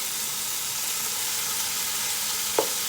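Chicken pieces fry and brown in a hot pan for pancit bihon, giving a continuous, even sizzling hiss up close with one brief clink near the end.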